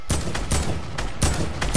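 A minigun fires in a video game in long, loud, continuous rattling bursts separated by brief pauses.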